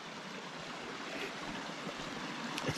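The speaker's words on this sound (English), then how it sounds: "Little waterfall here." Small waterfall in a peaty forest stream, a steady broadband rush of falling and splashing water that holds at an even level throughout with no voices.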